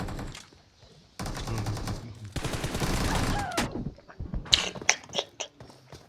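Video game gunfire comes in bursts of rapid automatic shots, loud and close, followed by scattered single pops and clicks.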